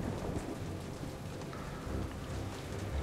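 Steady heavy rain pours during a thunderstorm, with low rumbling thunder rolling beneath the dense hiss of drops; no voices, a continuous moderately quiet wash of storm noise.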